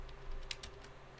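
Quick, light keystrokes on a computer keyboard clatter in short bursts near a desk microphone, with a few louder taps standing out over a faint steady hum.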